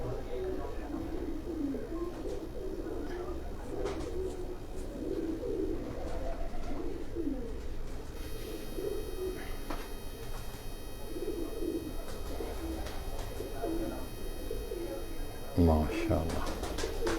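Pigeons coo softly in low, rolling calls on a rooftop in Jalalpur Bhattian, several birds murmuring on and off beneath people talking, with a brief louder knock near the end.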